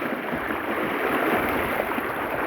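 Strong river current during a tidal bore, a loud, steady rush of water close by, with no talking.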